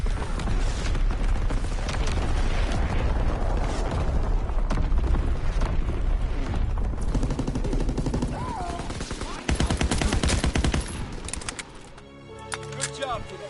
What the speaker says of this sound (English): That's the artillery barrage.